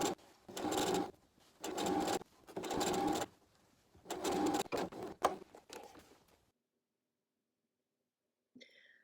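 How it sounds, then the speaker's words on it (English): A sewing machine stitching down pockets whirs in several bursts of a few seconds each with short pauses between, close and fairly loud, then goes quiet before a brief clatter. "we're ready to go to the sewing machine and stitch down the pockets"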